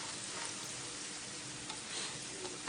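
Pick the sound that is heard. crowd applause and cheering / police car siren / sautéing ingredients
sautéing ingredients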